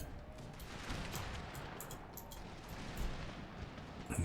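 Musket volleys and artillery fire crackle through a battle in Empire: Total War, a steady mid-distance clatter of overlapping shots with a few louder booms near the end, no voices.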